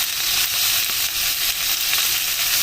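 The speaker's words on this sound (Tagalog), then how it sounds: "Saute natin yung pork." Pork sizzles loudly in a hot pan, sautéed for adobong kangkong, a steady dense frying hiss with faint stirring scrapes, close and continuous with no talking.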